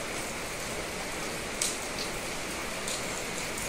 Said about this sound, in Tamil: மழை வேற பெஞ்சுக்கிட்டே இருக்கு, நிக்க மாட்டேங்குது